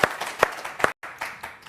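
Audience clapping at a live talk-show event, a few loud sharp claps in quick succession, a brief break, then scattered applause continuing.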